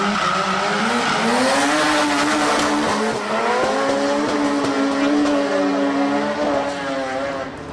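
Red Mazda RX-7 and Nissan S14 drift cars battling at Nakayama, engines wailing loud and close with rising and falling pitch, sustained tire squeal and skidding throughout.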